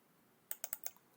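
A few quick, close key clicks on a computer keyboard, about five crisp taps in a short burst, with quiet room tone around them.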